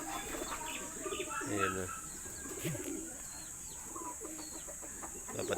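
Pet pigeon named Gatot at a morning racing-pigeon training session, soft cooing and bird chirps close by, with other birds calling and someone talking briefly over them.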